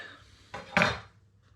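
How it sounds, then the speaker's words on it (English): A knife slices down through a baked apple flapjack, giving a short scraping cut followed by a louder knock against the plate or dish beneath, with no voices. "I'm going to cut this into slices like a pie"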